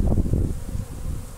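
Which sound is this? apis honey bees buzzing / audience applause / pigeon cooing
apis honey bees buzzing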